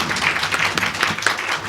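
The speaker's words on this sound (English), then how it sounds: "let's clap for ourselves" A dinner audience at a company advisors' thanksgiving event breaks into a short burst of clapping, a dense, even patter of many hands that holds steady for under two seconds.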